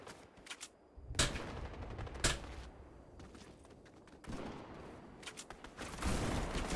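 Gunfire from a battle royale video game crackles in bursts of sharp shots and rapid automatic fire, with several louder reports standing out over quieter in-game background noise.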